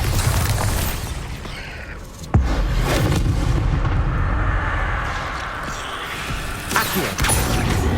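A Bombarda spell explosion in Hogwarts Legacy lands as a single sharp, heavy blast amid dense, loud combat rumble that continues throughout.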